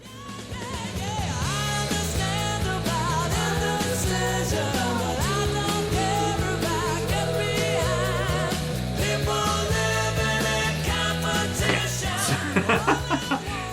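A rock song plays loudly and continuously from its recording, with full band instrumentation and a steady beat, no talking over it.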